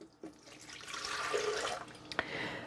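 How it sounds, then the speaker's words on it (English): Water from a measured 400-millilitre amount pours into a blender jar, a steady splashing stream lasting a couple of seconds, close and moderately loud, with no talking. "I have 400 milliliters of water. Okay, I'm going to put that in the blender."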